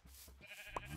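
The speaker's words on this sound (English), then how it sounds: "We got some sheep." Sheep bleating on a farm, a single short bleat standing out near the end of the second over a low steady background.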